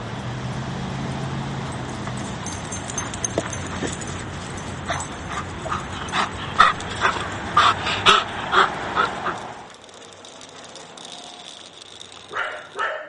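Several dogs at a dog day care bark in a busy run of repeated yelps and woofs, with some whimpering mixed in. A low rumble sits beneath them, and the barking fades to a quieter stretch with a few late yaps.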